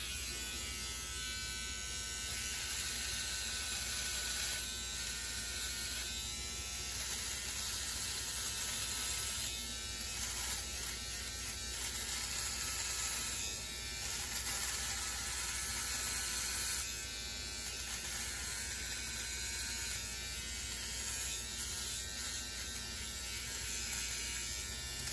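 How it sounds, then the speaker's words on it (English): A Philips OneBlade electric razor shaving facial hair against the grain, a continuous close buzzing hum lasting throughout, with slight shifts in pitch and texture as the blade moves over the skin. "So you want to shave against the grain with this device."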